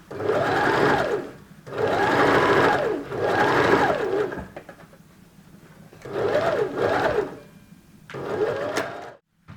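A sewing machine stitches a V-shaped neck band for nurses' scrubs in four or five loud, steady bursts of rapid whirring, with short quiet pauses between runs.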